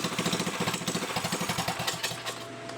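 A 212cc engine fitted to a Chinese quad idles while warming up, a fast, steady, loud chugging put-put with slight unevenness in the pulses, close by and without speech.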